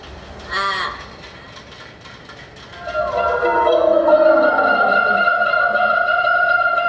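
Crows caw in a recording played through a sound app: one harsh, ringing caw rises early, then a layered, sustained drone of blended tones swells and holds steadily to the end.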